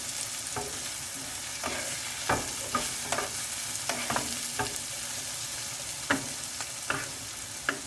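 Chopped tomato frying in a pan for baingan bharta, a steady sizzle with periodic spatula scrapes and taps, close and continuous with no voices.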